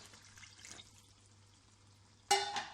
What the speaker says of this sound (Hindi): अब इसमें हम 1 कप पानी शामिल कर देंगे क्योंकि हमारा गोश्त गल जाए।